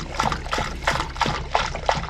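Water trickles and splashes in a rhythmic, pulsing pattern, with about six gurgling bursts at close range and no voices.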